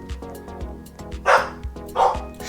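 A dog barks several times close by, sharp yaps with a couple of louder, higher barks near the end.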